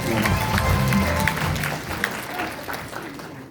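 Applause at a politician's constituency report meeting, many hands clapping in a full, steady wash that gradually softens and fades over the last second.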